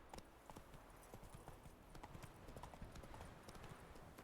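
Roach the horse's hooves clip-clop steadily in The Witcher 3 video game, a quick, even rhythm of soft hoofbeats that stays faint throughout.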